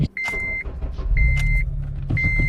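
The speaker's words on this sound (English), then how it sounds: "I love the startups too because they're so smooth" A supercharged Honda Civic Si starts up nearby. A repeating electronic beep sounds over a low engine rumble that settles into a smooth idle.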